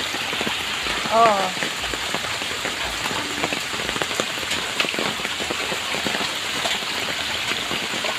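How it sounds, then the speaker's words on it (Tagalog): Steady rain pours down on a muddy road with running water, a dense close hiss throughout; a voice briefly exclaims over it. "Kasi ang lakas ng ulan."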